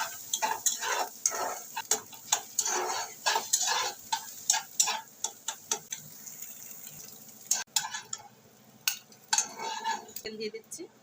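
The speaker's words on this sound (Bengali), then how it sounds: "এবার আরেকটুখানি তেল দিয়ে দিচ্ছি, ডিমটাকে ভেজে তুলে নেব।" Frying in oil in a wok while a spatula taps and scrapes in an uneven rhythm, sharp metallic clinks over a low sizzle, close to the cook.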